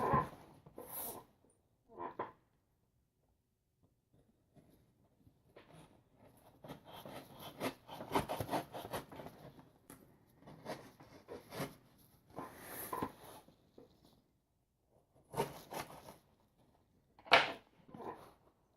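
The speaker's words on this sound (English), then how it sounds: "let's go ahead and cut this bad boy open" A knife cuts open a parcel box with quiet, intermittent scraping and slicing strokes and occasional tape rips, close by in a quiet room.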